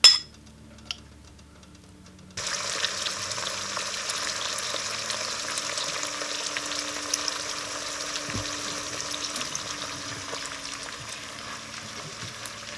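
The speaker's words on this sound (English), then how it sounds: "we have a nice sizzle on the bacon there" Bacon sizzles in hot olive oil with a steady, crackling hiss that starts abruptly after a quiet moment and continues, with an occasional faint clink.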